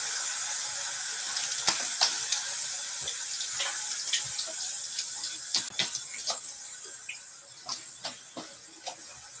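Tap water runs steadily into a sink for rinsing during a wet shave, a continuous close hiss with scattered small splashes and clinks throughout.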